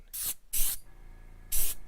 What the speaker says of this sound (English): So I'm holding it pretty far away, spraying it pretty light.